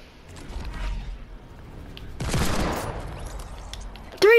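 Hand cannon gunfire in a first-person shooter video game: a dense burst of shots with a bright noisy crack around the middle, over low background game noise, and a sharp sound at the end.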